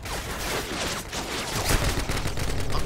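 Dense, continuous gunfire and explosions from an online match of Call of Duty Modern Warfare 2, loud and chaotic with overlapping shots and no clear pauses.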